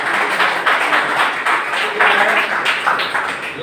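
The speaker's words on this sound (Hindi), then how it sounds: "ये ताली होना चाहिए।" Audience applause at a network marketing seminar, a steady dense clapping that carries on throughout with slight swells.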